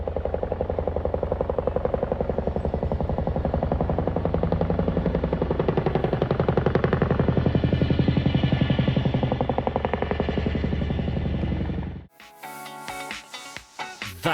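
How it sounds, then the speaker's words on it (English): A Chinook helicopter lifts off at RAF Odiham, its loud, rapid rotor chop pulsing steadily for about twelve seconds before cutting off abruptly, leaving quieter echoing clatter. "That was the unmistakable waka waka sound of a Chinook taking off from RAF Odium."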